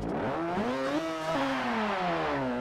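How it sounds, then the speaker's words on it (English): A Mazda RX3 with a swapped-in 13B rotary engine revs in Forza Motorsport 7, the steady buzzing drone climbing and easing in pitch as the throttle rises and falls. It holds at a constant, close loudness. "These rotaries sound decent here in motorsport up till you get to a certain RPM"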